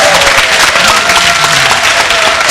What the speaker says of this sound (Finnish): Kallelle aplodit.